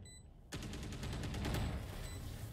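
Rapid gunfire bursts from a Valorant esports match, starting abruptly after a brief quiet moment and continuing as dense, loud repeated shots layered with game effects.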